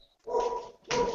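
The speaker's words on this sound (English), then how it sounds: "Hear the chow barking." A chow chow gives two short, close barks separated by a brief pause, each a clipped, tonal woof.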